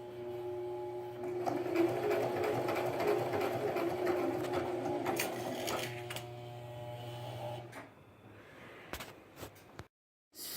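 A sewing machine stitching fabric for an apron whirs steadily for several seconds with a buzzing motor tone, then slows, stops, and a few faint clicks follow.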